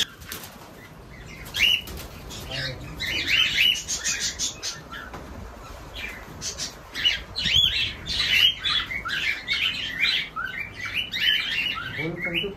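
Cockatiels in a cage, a first clutch of chicks among them, chirp and squawk in bursts of shrill calls with wing flutters, fairly close, over a low background murmur.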